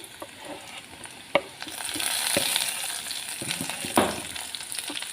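Green chilies and shrimp stir-frying in a hot pan, a steady close sizzle with scraping stirs and a few sharp clacks of the utensil against the pan.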